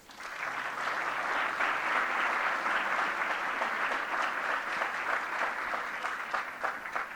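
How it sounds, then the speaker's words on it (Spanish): Warm, continuous audience applause for guests at a book presentation event, a full room clapping steadily at an even level from start to finish with no voices rising above it. "Un aplauso para ellos."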